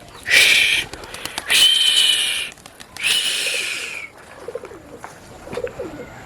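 Pigeons clattering and flapping in three loud bursts as they are startled into flight, close up, followed by quieter scattered wing and body sounds.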